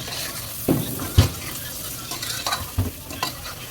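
Goat trotters frying in oil with turmeric and salt, stirred with a few sharp scraping knocks over a steady sizzle, close by.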